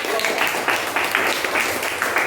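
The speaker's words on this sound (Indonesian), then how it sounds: "kita beri aplaus sekali lagi untuk" Audience applause at a school class performance session, a steady dense wash of many hands clapping throughout, fairly loud and continuous with small surges.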